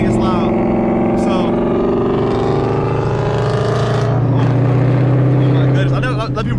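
A Ford Mustang with a naturally aspirated Coyote V8 runs loud and steady, its deep exhaust drone holding throughout with revs swelling slightly, while people talk over it.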